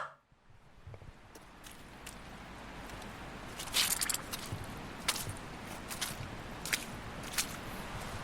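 Footsteps squelching through deep mud on a walk with a dog, a steady run of wet, sucking treads that sound close to the recorder and carry on throughout, with no talk.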